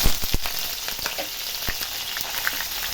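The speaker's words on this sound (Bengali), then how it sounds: "এর মধ্যে দিয়ে দেব পেঁয়াজ।" Onion goes into hot oil already frying bay leaf and garam masala, giving a loud, dense, continuous sizzle with crackling pops and a few sharp clicks, close up and with no talking.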